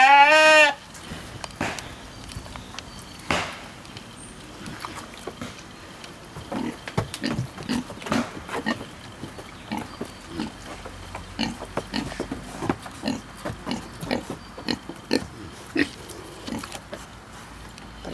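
A pig on a summer farm near Kyiv grunts and snorts in irregular short bursts throughout. A loud squeal opens the sequence, and the grunts continue close up at a moderate level.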